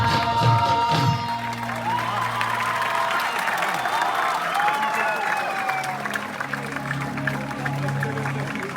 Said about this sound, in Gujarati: આપણે જોરદાર તાળીઓથી વધાવીએ